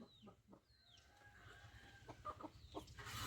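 Village chickens cluck and squawk nearby in a rural yard, a few short calls rising over a low, noisy background, fairly faint overall.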